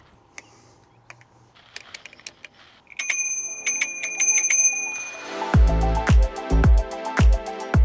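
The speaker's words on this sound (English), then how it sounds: "Do give you a nice little gold bell here." A small gold bicycle bell on a Cyrusher Flex e-bike rings loudly, several crisp dings repeating in a steady rhythm close to the microphone, after quieter clicks and taps of handling.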